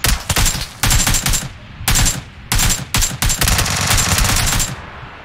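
Loud, close bursts of automatic gunfire from the PUBG Lite video game on PC, several rapid sprays separated by short pauses, with no talking over them.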